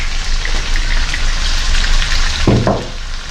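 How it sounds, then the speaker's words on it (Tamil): Carrot, potato and radish sautéing in hot oil give a steady, close sizzling hiss with a brief stirring scrape near the end, no voices. "இந்த கேரட் உருளைக்கிழங்கு முள்ளங்கி எல்லாம் ஒரு ரெண்டு நிமிஷம் நான் இதில் எண்ணெயில் வதக்கியிருக்கிறேன்"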